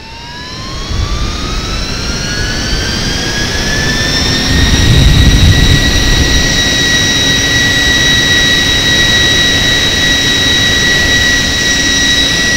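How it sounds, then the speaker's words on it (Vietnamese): A small electric jet fan spinning up, its loud, piercing whine rising in pitch over the first seconds and then holding steady with a deep rumble beneath, close and alone. "Nó rít kinh khủng luôn nhá. Rít như động cơ ấy."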